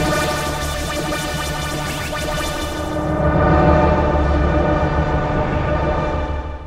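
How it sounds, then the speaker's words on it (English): A dense, sustained synthesizer tone from the Sample Logic Arpology instrument, triggered on releasing keys on a MIDI keyboard, with many layered harmonics swells and lingers, growing fuller partway through before slowly fading, with no voices. "That last really crazy sustained sound was actually from me releasing my fingers from the MIDI keyboard"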